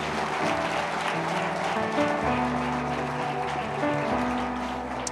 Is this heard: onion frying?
no